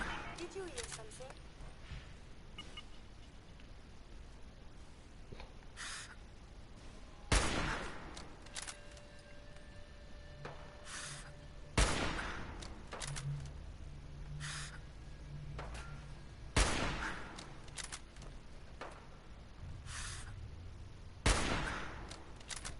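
Gunfire in the video game Fallout 4: scattered sharp shots and short bursts separated by pauses, fairly faint against a quiet background, with a voice talking at times.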